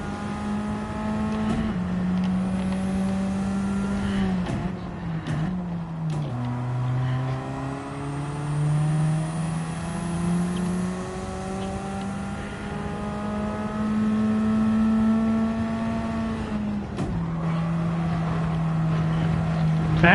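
A race car in Gran Turismo 7 laps a wet Spa circuit, its engine whining steadily and rising and dropping in pitch through gear changes and braking.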